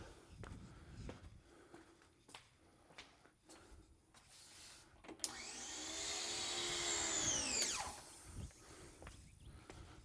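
An air blower switched on to dry water off a Porsche GT3 RS, a few footsteps and handling knocks, then a loud rising whoosh of air that winds down after a few seconds.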